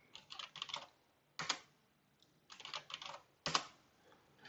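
A password is typed on a computer keyboard in quick, quiet bursts of key clicks separated by short pauses, with a few sharper single presses, close by and with no talk.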